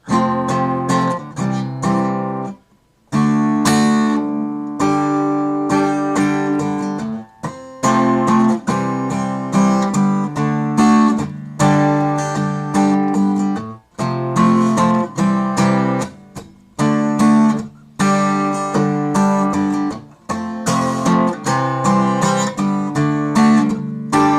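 Strummed guitar chords played slowly and continuously in a rhythmic pattern, ringing fully with brief pauses between phrases, no voices.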